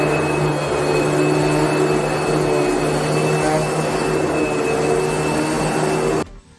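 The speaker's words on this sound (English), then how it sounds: "Vacuuming." A vacuum cleaner runs with a steady, loud motor drone and a whining hum, close by and unbroken for several seconds before cutting off abruptly at the end.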